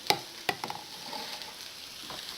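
A frittata mixture with potatoes and black pepper is stirred in a frying pan, a couple of sharp utensil clinks over a soft steady sizzle, close and without talk.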